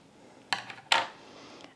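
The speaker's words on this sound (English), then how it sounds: "cut my yarn" Scissors snip through yarn after a small padded crochet heart is sewn closed, giving two quick, quiet, close-up clicks about half a second apart against a soft room background.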